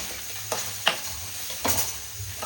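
Okra dry-frying in a pan without oil, a low quiet hiss with a few sharp scraping strokes of a spatula against the pan, close by.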